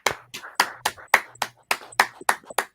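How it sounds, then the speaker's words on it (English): Sharp hand claps ring out in an irregular series of about a dozen, loud and close, during a Friday class gathering, with no talking over them. "Let's clap it up."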